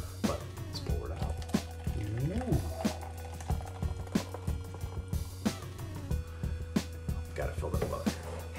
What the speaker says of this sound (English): Maybe it's because it's in the can and it's not in the bottle, but let's pour it out.